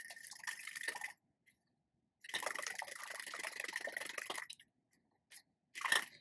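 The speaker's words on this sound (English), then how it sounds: "The egg is in another bowl for whisking, so it's all mixed together before I put it with the beef." One egg whisked in a bowl before going in with ground beef: quick, busy clinking and sloshing in two long bursts, then a short final flurry after a pause.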